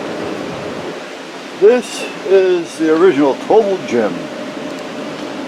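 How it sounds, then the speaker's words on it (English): Steady broadband whoosh of electric fans blowing throughout, with someone talking briefly over it partway through. "I got fans blowing all over this place just to keep us cool."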